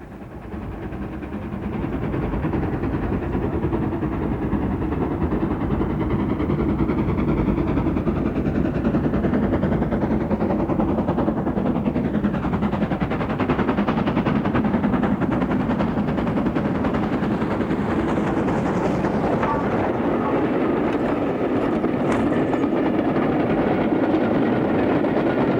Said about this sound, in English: we see 1306 on a demonstration run, showing once again the method of picking up mail bags by a travelling post office